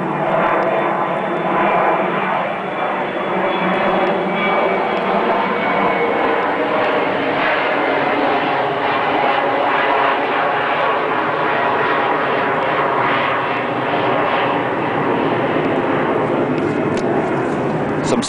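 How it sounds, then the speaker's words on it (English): A propeller or jet airplane passes overhead during a yard tour beside a house, a steady loud broadband engine roar that fills the whole stretch with no pause and no talking. "I'm gonna wait for this plane to go over again."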